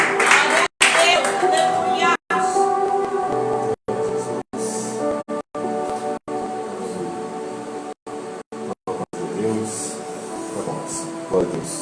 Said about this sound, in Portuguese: As palmas é para o Senhor Jesus nesta tarde, com a igreja